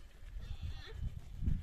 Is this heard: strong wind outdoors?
no